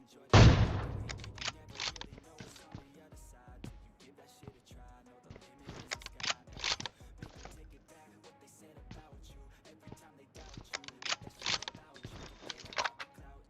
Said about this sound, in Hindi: कहीं दूर से कोई सस्ती सी गन चला रहा है